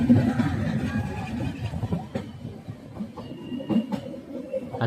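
Ooty toy train rolling along its mountain track, a low rumbling rattle with faint clanks, heard from aboard under murmuring passenger voices.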